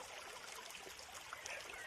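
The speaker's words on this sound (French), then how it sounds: "Une rivière coule tranquillement." A calm river flows in a soft, steady hiss of running water, faint and continuous with no other sounds on top.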